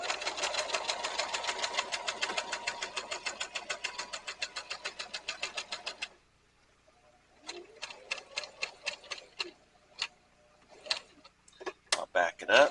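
A sewing machine stitches leather onto an upcycled tote bag, its rapid needle ticking steady and close for several seconds, then stopping and restarting in short bursts with a few louder knocks near the end.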